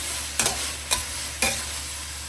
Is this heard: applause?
no